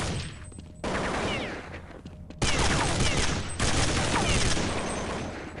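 Rapid video-game gunfire, with a sniper rifle among the weapons, fills the clip in loud sustained bursts of overlapping shots that stop and restart a few times, with game sound effects and no clear talk.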